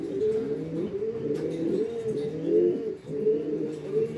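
Pigeons, ornamental and homing birds in a loft, coo steadily in low, rolling calls that overlap continuously, close by and fairly loud, with no talking.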